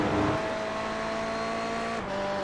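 Race cars in an iRacing Le Mans 6 Hours stint, a Ferrari among them, with a loud, steady engine whine holding pitch before a quick shift-like dip and recovery, close and without talk.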